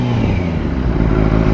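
A high-cc motorcycle engine revving hard nearby, a loud, rough, continuous roar with pulsing throttle swells and no talk.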